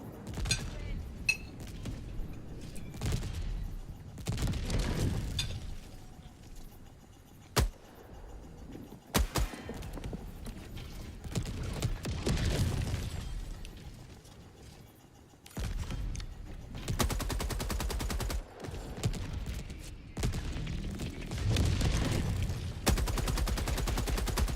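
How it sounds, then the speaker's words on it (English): An FRV vehicle in a shooter video game blows up with the force of a 500 kg bomb. Several loud, sharp blasts mix with bursts of gunfire and clattering debris, with no voices. "Did the new FRV explode like a 500 kg? Yes, that's exactly what just happened."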